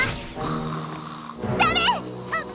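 A character in the PJ Masks children's cartoon snores while asleep, with a drawn-out, close, loud snore broken by wavering voiced rises.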